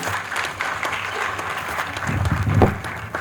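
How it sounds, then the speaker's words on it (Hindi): Audience applause at an annual storytelling festival stage program, a steady crowd clapping that swells louder toward the end over about three seconds, with no talk. "एक बार जोरदार तालियां"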